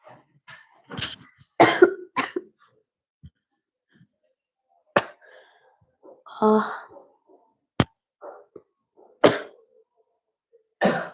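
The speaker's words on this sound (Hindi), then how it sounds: "खांसी हो रहा है।" Scattered coughs and throat-clearing sounds break a mostly quiet room, several sharp bursts spaced irregularly, one clustered pair near the start.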